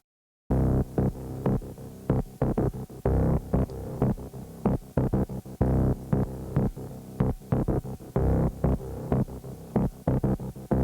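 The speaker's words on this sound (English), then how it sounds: "So this is the massive bass line." A synth bass line from the Massive software synthesizer throbs in short, deep, humming pulses with a choppy, syncopated rhythm. It plays loud and alone after a brief silence at the start.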